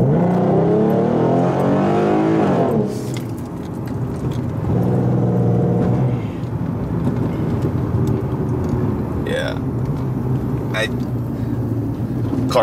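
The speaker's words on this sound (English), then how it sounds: "Wide open throttle right here." Ford Mustang fitted with a Pedal Commander accelerates at wide open throttle in sport mode plus, the engine note climbing through rising revs, dropping at a gear change, then pulling hard again, heard from inside the car.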